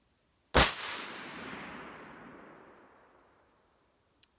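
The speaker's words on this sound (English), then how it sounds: "I'm going to shoot at the close target." A single sharp shot from a Remington 700 hunting rifle cracks loudly outdoors. It is followed by a long rolling echo that fades over about three seconds, and a faint click comes near the end.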